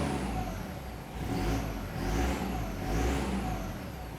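A 1996 Toyota Hilux Surf with a 1KZ-TE turbo diesel and a Fujitsubo exhaust revs to about 2,000 rpm in three rising and falling surges over a steady idle rumble. It is close and fairly loud, with no talk.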